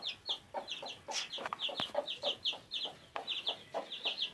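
A hen clucks over a brood of newly hatched chicks, which cheep in quick high bursts throughout; the calls come close and steady, with no talking.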